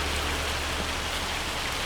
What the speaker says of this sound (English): It is lashing rain